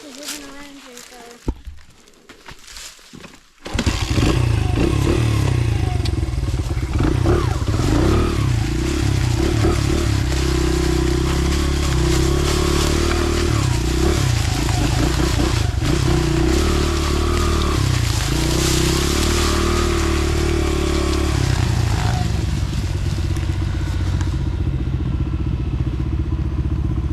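A small dirt bike engine carrying a big rider, riding around a tree and up a small hill. After a quiet opening the engine roars in close and loud, holding a steady, rough drone for the rest.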